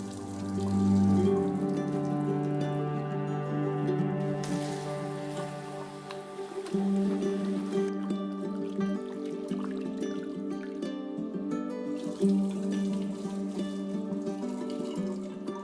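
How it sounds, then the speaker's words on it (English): Cooked noodles are rinsed and drained under cold running water in a kitchen, a continuous splashing, trickling patter heard beneath steady background music. "Rinse and drain the noodles in cold water a couple of times to get rid of the excess starch."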